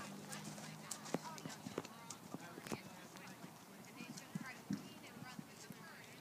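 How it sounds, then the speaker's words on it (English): Hoofbeats of a horse cantering under an 11-year-old rider, a steady quiet clip-clop rhythm at middle distance with a coach calling out instructions over it. "That's the perfect canter, Ian."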